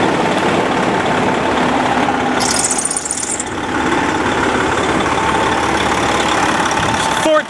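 A Detroit Series 60 14-liter, 515-horsepower diesel idles in a 2006 Freightliner Columbia 120 truck, a steady, loud, close rumble with an even mechanical chatter and a brief high-pitched whine partway through.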